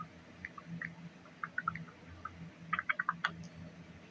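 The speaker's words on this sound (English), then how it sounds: "I hear you typing" Someone types on a computer keyboard, irregular bursts of light clicks that cluster into a quick flurry near the end, faint and unaccompanied by speech.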